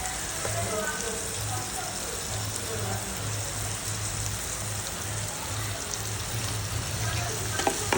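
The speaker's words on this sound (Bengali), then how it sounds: "এটাকে একটু ভালোভাবে নেড়ে চেড়ে কষাতে হবে।" Turmeric and chili powder sizzle and fry in a pan as spices are stirred for a river fish curry, a steady close crackle running throughout with no talk.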